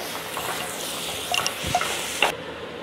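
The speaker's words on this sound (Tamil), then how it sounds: "இப்போ வெங்காயம் நல்லா பொன்னிறமாக வதங்கிடுச்சுங்க" Chopped small onions sautéing in a pan for channa masala, a soft, close sizzle with a few light scrapes and clinks of stirring, cutting off abruptly near the end.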